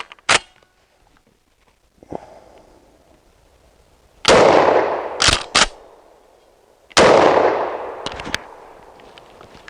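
A shotgun fired with game load shells at an outdoor range: several sharp, loud blasts with long rumbling echoes trailing off, spaced a few seconds apart, plus a couple of quick clicks between them.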